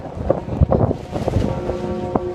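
Gusty wind rushes and buffets steadily outside St. Stephen's Basilica in Budapest, with faint sustained ringing of tolling church bells in the background toward the end.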